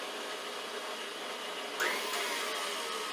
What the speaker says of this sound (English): You can do this all by hand, but it's easier in the mixer.